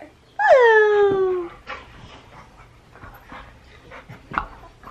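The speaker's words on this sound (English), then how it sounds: "Look at this dog." A dog's sound at close range: a sharp whining, descending yelp followed by soft rapid panting breaths and faint rustling, no speech.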